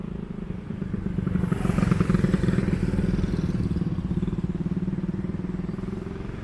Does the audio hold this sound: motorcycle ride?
yes